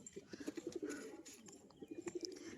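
Pet pigeons coo softly in short repeated throaty bursts, two clusters of rolling coos separated by a pause, fairly close and quiet.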